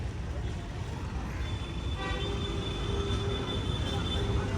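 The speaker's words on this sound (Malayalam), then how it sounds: "ന്യൂഡൽഹി റെയിൽവേ സ്റ്റേഷൻ അതാ തൊട്ട് മുന്നിൽ." At New Delhi railway station, a train horn sounds a sustained tonal blast midway through, rising over a constant bed of station and street noise.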